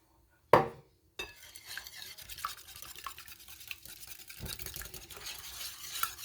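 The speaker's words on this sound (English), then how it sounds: "It's getting mixed together very well." Brownie batter with a beaten egg mixed in is stirred steadily in a bowl, giving continuous close scraping and sloshing strokes after a brief sharp knock at the start.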